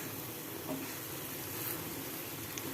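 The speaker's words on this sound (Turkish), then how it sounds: "Güzelce pişiriyoruz domateslerimizi." Tomatoes cooking with spices in a pan for the Turkish dish imam bayıldı sizzle steadily, a soft even hiss and crackle heard up close with no talking.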